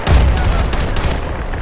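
Dense, loud gunfire from Battlefield: Bad Company 2 fills the whole moment as a rapid fusillade of overlapping shots, with a heavy low boom near the start and continuous crackling bursts after it.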